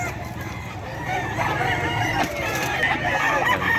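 Sweater-breed gamefowl roosters crow and cluck among many birds at a busy poultry market, overlapping calls over a dense background of crowd noise and faint voices.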